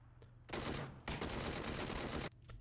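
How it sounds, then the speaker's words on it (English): Bursts of enemy gunfire in the Battlegrounds shooter game: a long loud rattle of rapid shots, a brief pause, then a second sustained volley, with quieter ambience before and after. "I'm letting him shoot his bullets."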